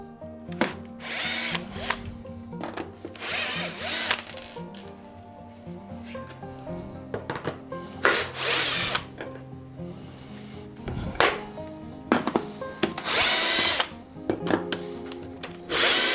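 A wood router cuts flutes into a shaving brush handle held in a fluting jig, giving repeated loud bursts of high whining cutting separated by short pauses, with a steady motor hum underneath.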